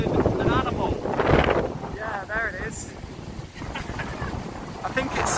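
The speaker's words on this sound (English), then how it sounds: "It's fucking windy." Strong outdoor wind rumbling against the microphone throughout, loud at first and easing slightly, with people talking over it.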